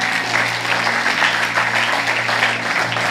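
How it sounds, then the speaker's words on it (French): A church congregation bursts into dense, continuous applause for Jesus, a steady wash of many hands clapping at full strength throughout. "Tu peux l'acclamer très fort."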